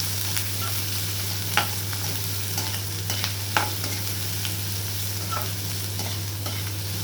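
Onions frying in a pan for paneer bhurji give a steady close sizzle, with occasional soft scrapes and taps of a stirring spoon and a low constant hum beneath.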